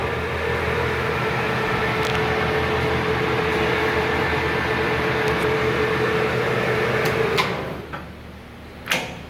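A Leblonde Makino 15 x 54 lathe with an L-1 spindle runs at 351 RPM, giving a steady, even mechanical hum and whir that winds down near the end, with a few faint clicks.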